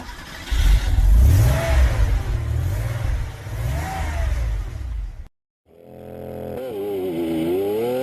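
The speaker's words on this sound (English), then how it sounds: "but start your engines." A loud car engine sound effect revs up and down in surging waves, cuts out briefly, then returns as a rising, whining rev.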